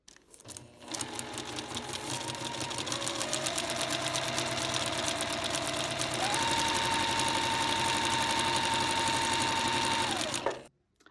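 A sewing machine stitches a paper-pieced quilt seam in one steady, close, continuous run of fast mechanical whirring for about ten seconds, then stops abruptly.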